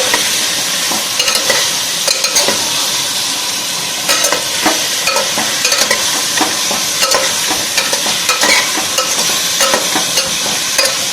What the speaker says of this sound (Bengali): চিকেনটাকে একটু নাড়িয়ে নেব এইটার সাথে, পেঁয়াজটার সাথে।